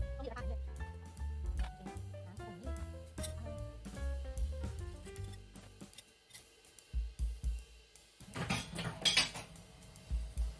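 After a stretch of music, a spoon clanks and scrapes in a pot of rad na gravy for a few seconds, close and moderately loud, with soft background sound between strokes.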